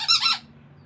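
A squeaky dog toy ball gives one loud, shrill squeak lasting under half a second, then near silence.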